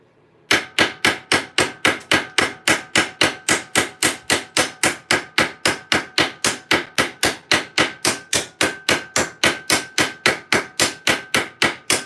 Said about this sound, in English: Let's put a rivet in.